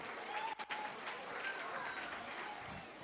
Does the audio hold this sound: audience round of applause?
yes